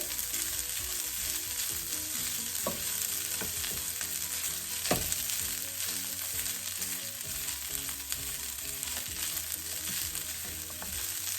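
Onion, chili and fish sizzle and fry in a pan while being tossed, a continuous close crackle with occasional sharper scrapes and clatters from stirring.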